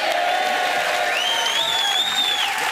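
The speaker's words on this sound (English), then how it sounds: "Television history, the crowd go wild when we get a lemsip out." A studio audience cheering and applauding on a comedy television show, a steady wash of clapping and crowd noise with whooping rising above it midway.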